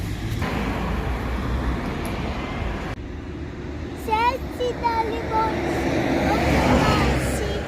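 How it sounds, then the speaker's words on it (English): Steady low road rumble of passing cars, with a few short chirpy voices or birdlike calls rising over it midway. "But the cars are making noise."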